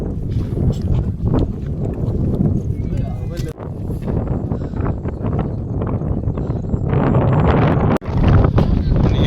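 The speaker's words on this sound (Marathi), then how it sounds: "तिकडे वरती हवा मस्त सुटली" Strong wind on the Anjaneri mountain trek roars into the microphone in a loud, continuous buffeting rumble with gusts that barely let up, and a voice can be heard beneath it.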